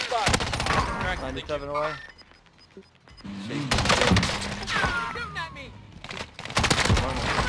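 Gunfire in a shooter video game crackles in rapid bursts and volleys, mixed with game effects and overlapping speech, with a brief lull in the middle before the shots pick up again.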